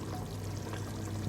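Water pouring steadily into a cooking pot of lamb yakhni pulao over low heat, a continuous soft splashing trickle heard close up with no talk.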